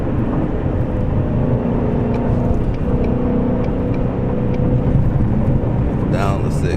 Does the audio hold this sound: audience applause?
no